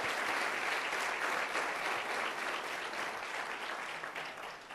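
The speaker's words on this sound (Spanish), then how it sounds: "Démosle un aplauso al Señor" A church congregation gives sustained applause, a dense wash of many clapping hands that holds steady for several seconds and then begins to fade, with no voices above it.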